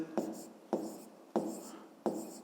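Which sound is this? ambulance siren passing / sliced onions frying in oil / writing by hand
writing by hand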